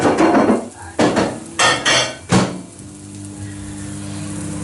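Ceramic plate clatters against hard kitchen surfaces in several sharp knocks and scrapes, close and fairly loud, followed by a low steady hum as a microwave runs.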